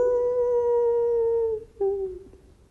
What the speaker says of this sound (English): Here's this howling.